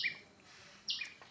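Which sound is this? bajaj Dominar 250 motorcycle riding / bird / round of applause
bird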